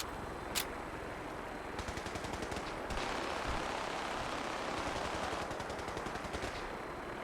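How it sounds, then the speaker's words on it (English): Rapid bursts of automatic gunfire with scattered single shots rattle continuously from a medium distance in a video game, dense volleys recurring over a steady background din. "I don't know what they're shooting at."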